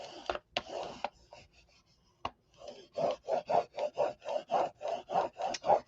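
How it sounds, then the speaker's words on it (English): Score tape on a paper craft accordion folio is burnished by hand: a few scattered scrapes, then a quick run of about a dozen even rubbing strokes, close and clear, with no voices. "So we're going to burnish the score tape."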